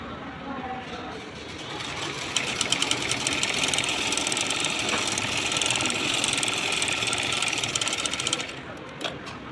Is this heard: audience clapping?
no